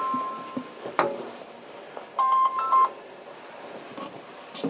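Telephone keypad tones pressed while silencing a ringing phone, a few short beeps and a brief run of clear dialing tones near the middle, mixed with light clinks in a quiet room.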